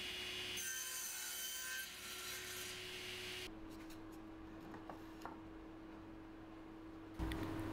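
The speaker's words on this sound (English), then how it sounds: "I can get them cut on the crosscut sled" A table saw cuts wooden divider pieces for a bug hotel on a crosscut sled, with a loud, dense cutting roar and hum that drops away midway, leaving quieter workshop knocks and rattles.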